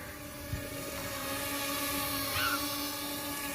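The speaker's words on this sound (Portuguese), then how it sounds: "Como tá o drone? Ele tá voando bem." A small DJI Tello drone hovers and flies nearby, its steady whining rotor hum continuous throughout at moderate level, with a brief low thump near the start and a faint chirp partway through.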